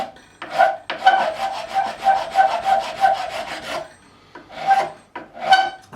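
A file rasps across a bone guitar nut on a Gibson ES-335 in a run of quick, even back-and-forth strokes, then pauses before a few more strokes, close and clear with no talking.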